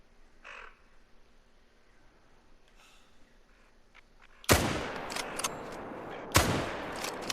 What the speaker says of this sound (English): Oh, that shot was high on that buck.